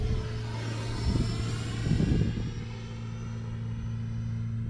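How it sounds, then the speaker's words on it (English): An E-Flite Viper RC jet flies on a hot summer day, its electric ducted fan giving a steady whining drone with a low rumble that swells briefly, then eases as the model passes at moderate distance. "this plane here, this jet, will fly so nice and slow too."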